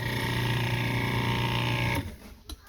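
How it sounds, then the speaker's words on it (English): A food processor whirs steadily as it pulses scone mixture, a loud, continuous motor drone that cuts off abruptly near the end, leaving faint clatter. "So we'll put that in our food processor. So now we're going to pulse it a little bit."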